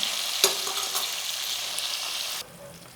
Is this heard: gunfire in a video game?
no